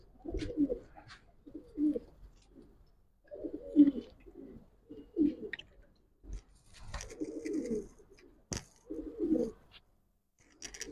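Giribaz Kaldom pigeons coo in a series of soft, low, rounded calls that recur every second or two, close by and fairly quiet, with a sharp click and faint background noise between phrases.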